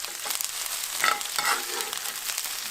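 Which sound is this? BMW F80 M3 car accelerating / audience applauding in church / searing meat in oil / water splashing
searing meat in oil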